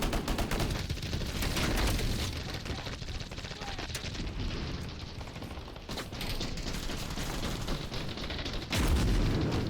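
Frag grenade explosion amid gunfire in the video game BattleBit: dense continuous battle noise with bursts of shooting and booms, a loud blast near the end, and some talk over it.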